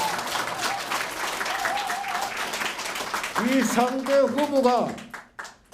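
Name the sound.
audience applause at campaign office opening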